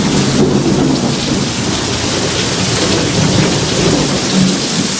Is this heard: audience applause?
no